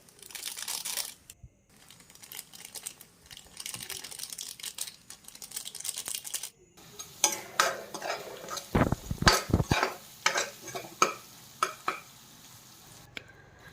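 A spice mix of coriander powder and cumin fries in a pan, with a continuous sizzle broken by bursts of scraping and clattering as a spoon stirs it. Several brief pauses and sharp knocks against the pan come through up close.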